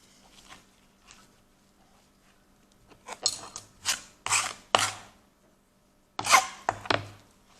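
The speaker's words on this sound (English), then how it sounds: "I'll even add a little cheese into this and just kind of knead it in a little bit more." Hand kneading of dough with added cheese: a run of soft irregular slaps, squishes and rubs against a board, quiet at first and then louder with several distinct pressing thumps.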